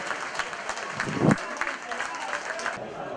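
Stadium crowd at an Eccellenza regional cup final applauding a football player as he is substituted off, a broad clapping wash beneath an Italian commentator talking over it.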